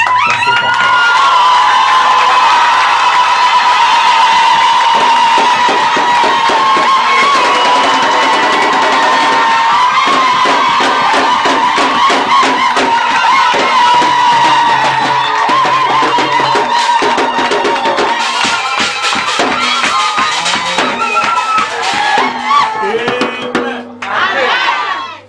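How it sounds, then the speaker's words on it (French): A church congregation cheers and shouts loudly during a prophet's visit, a dense sustained roar of many voices with whoops running for the whole stretch and thinning slightly near the end. "nous acclamons très fort"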